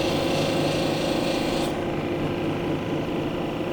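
A red jasper cabochon is being polished against a spinning grit wheel, making a steady, close rasping grind that runs without pause and softens slightly partway through.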